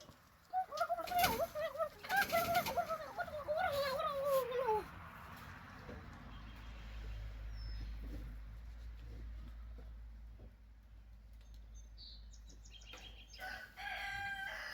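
A rooster crows loudly near the start amid farmyard chickens, followed by softer scratching, rustling and low rumbling, with faint bird chirps toward the end.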